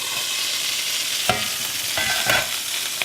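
Steak sears in a hot pan with a constant bright sizzle, broken by a few louder crackling bursts as the meat is moved, close up with no talking.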